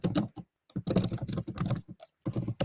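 Typing on a computer keyboard, with short bursts of close keystrokes broken by brief pauses.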